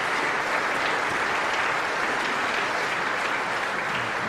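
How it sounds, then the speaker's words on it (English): Sustained audience applause fills a snooker hall at the 1994 UK Championship, a steady broadband wash of clapping from a large crowd, loud and continuous with no voices over it. "Let the applause die down"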